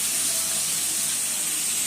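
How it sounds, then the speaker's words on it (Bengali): A dense, even sizzle of potatoes frying in oil, steady and close with no pauses. "এখানে আলু ভাজা হচ্ছে"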